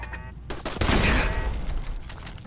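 A turret fires on the player in the video game Fallout 4, a sudden close volley of rapid gunshots that bursts in loud and keeps rattling before easing off slightly.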